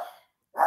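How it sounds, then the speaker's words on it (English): A dog gives two short, close barks separated by a brief silence. "Same one dog that likes to bark."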